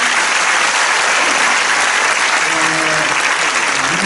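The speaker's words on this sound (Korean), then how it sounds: "우리 박수로 격려해 주시면 감사합니다." Sustained audience applause fills an inauguration ceremony for a university president held during a worship service, a dense steady wash of clapping from a large seated crowd with faint voices underneath.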